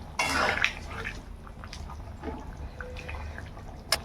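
Koi fish go into a simmering curry with a short, close splash and sizzle at the start. A softer bubbling and dripping follows, ending in one more small splash.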